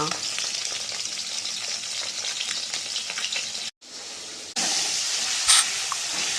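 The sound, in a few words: fish frying in a pan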